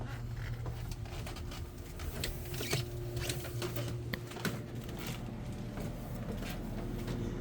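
An air conditioner unit starts up after sitting idle for about half a year, holding a steady mechanical drone with a low tonal hum and faint rattling ticks throughout.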